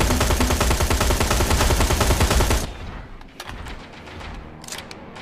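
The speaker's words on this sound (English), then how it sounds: "Now I'm gonna shoot you." Rapid automatic gunfire in the shooter video game Terminator Resistance, a dense loud burst of shots for about two and a half seconds, then cutting off to quieter scattered clicks and faint impacts.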